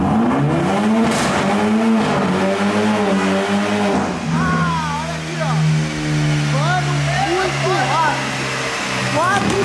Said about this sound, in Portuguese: eu vou pegar a Porsche agora, nesse exato momento, e vou testar o 0 a 100 da Porsche